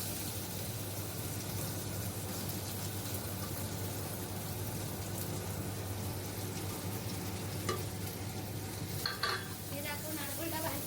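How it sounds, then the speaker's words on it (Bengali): Grated coconut fries in a pan with a steady, close sizzle and crackle, broken late by a few scraping stirs and clinks of the utensil. "নারকেলটা ভাজতে দিলাম।"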